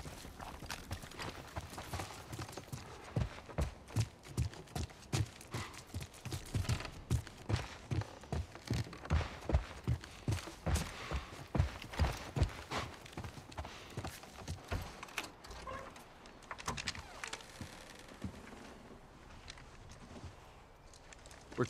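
Horse hooves in The Last of Us Part 1 on PS5, a steady rhythmic clip-clop of a horse walking and trotting, close and clear for most of the stretch before easing off near the end.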